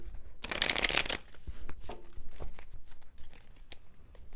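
Tarot deck riffle-shuffled, a quick dense burst of flapping cards up front, followed by softer scattered card handling and light rustling.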